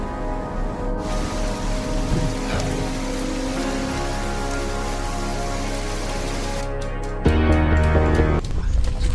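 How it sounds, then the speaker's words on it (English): Steady, dense wash of heavy rain pouring down during a road trip in Australia, a constant loud hiss with a low rumble beneath, no voices. "Raining buckets."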